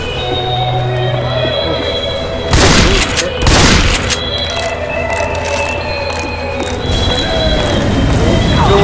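Grenade explosions in the video game Left 4 Dead 2 go off as two heavy, loud booms close together over continuous gunfire and game noise, then a further rumble near the end.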